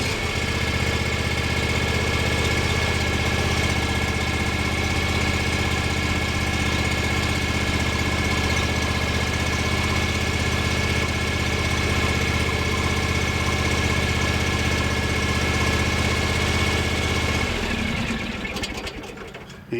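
A John Deere X390 riding mower's engine runs at a steady idle, a loud, constant droning hum close by that holds for most of the stretch before easing off near the end.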